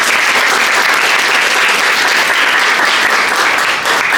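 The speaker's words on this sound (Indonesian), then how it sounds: "ya, nice, tepuk tangan mas." Dense, loud applause from an audience at a first-aid training demonstration, continuous clapping filling the entire span with no talk over it.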